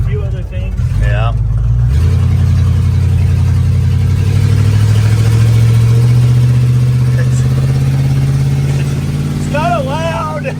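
A 1977 Dodge D100 pickup with a swapped small block V8 and a carburetor needing a rebuild runs loud and close, the engine rising in a sustained rev with a deep rumble, while people talk briefly at the start and end.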